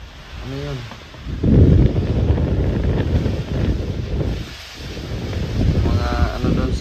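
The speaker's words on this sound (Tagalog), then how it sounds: "Lakas ng hangin." Powerful gusts of a rainy typhoon at night battering a hut, a loud roaring, buffeting wind that surges after a second and keeps churning, with a voice speaking briefly near the start and end.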